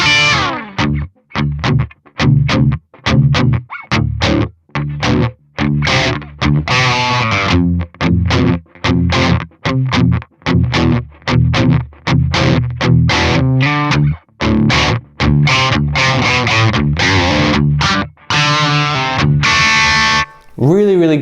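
An electric guitar through a Fishman Fluence Classic Humbucker on its first voice setting plays distorted, chopped chords and riffs in rhythmic stabs with short gaps, loud and close.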